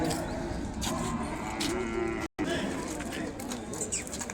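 A calf at a Sunday cattle market for Ongole bulls moos in a long, close low call over busy crowd chatter and nearby voices, with a brief dropout midway.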